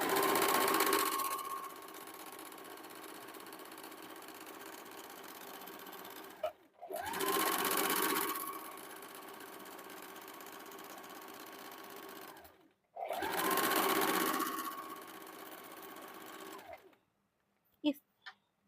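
An electric sewing machine stitches a gents short kurta in three long, steady whirring runs separated by short pauses, close and fairly loud.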